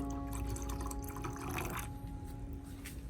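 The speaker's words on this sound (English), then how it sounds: "I add about 500 milliliters of clean water and stir well to dilute it properly" Clean water, about half a litre, is poured into a plant nutrient solution and stirred, giving soft trickling and dripping with faint liquid swirling over a low steady hum, quiet and close, without speech.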